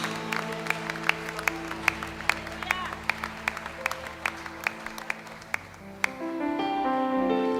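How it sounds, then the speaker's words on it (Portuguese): Church congregation at a celebration service clapping in steady rhythm, a continuous patter of hands with sharp accents, moderately distant, before music swells in near the end. "Aplauda mais forte a Ele."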